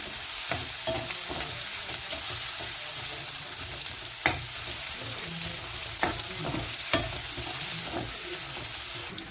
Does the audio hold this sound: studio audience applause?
no